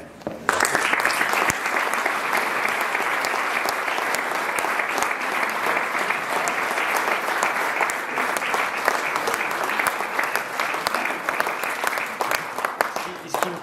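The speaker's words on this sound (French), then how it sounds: "de grands applaudissements" Loud, sustained applause from a crowd at a Légion d'honneur ceremony, dense clapping that carries steadily for over ten seconds without a break.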